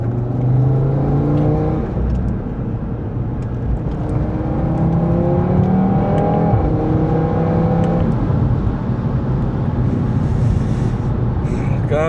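A car accelerating hard through the gears in a POV drive, with a steady loud engine note rising in pitch several times across the clip, each climb followed by a drop at a shift.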